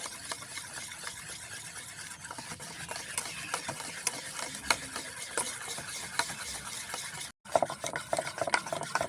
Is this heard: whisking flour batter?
yes